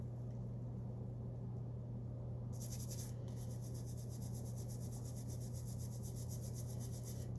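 A dirty lamp being scrubbed with a toothbrush, a close, steady rasping rub of bristles that grows brighter and continuous after a brief pause, over a constant low hum.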